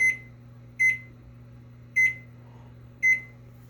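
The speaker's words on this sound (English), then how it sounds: "set our timer for 5 hours" An oven timer beeps while being set for a five-hour cook of ribs at 200 degrees: four short, bright beeps spaced about a second apart, clear and close over a low steady hum.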